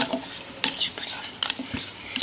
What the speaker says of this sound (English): We just gotta keep stirring it first